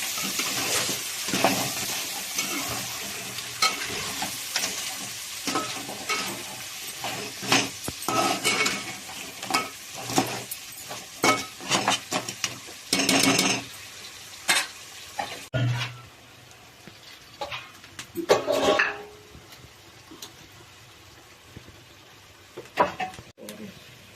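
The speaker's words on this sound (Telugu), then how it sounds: "కారం అంతా కలిసేలాగా తిప్పుదాం" A spoon stirs chili powder through crab curry in a hot pan, giving rapid scraping and clattering metal strokes over a sizzling fry, which then slow to a few louder, separate knocks.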